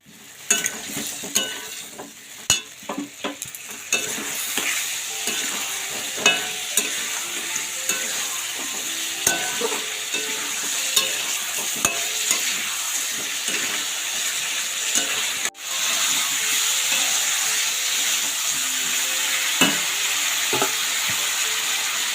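Cauliflower stir-frying in a pan, a steady dense sizzle with frequent scraping stirs and clicks of a utensil, close and continuous, with a brief dip then louder frying near the end.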